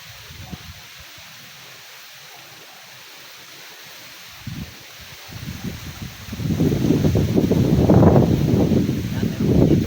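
Steady wind buffeting the microphone at an eco park, starting light and growing into loud, gusty roaring in the second half.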